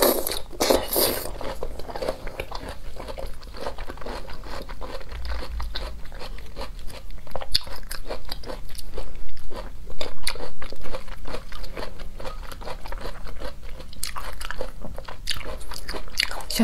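Crunchy brown sugar being bitten and chewed close to the mic, a dense run of crisp cracks and crunches that carries on steadily, with a few sharper bites standing out near the start.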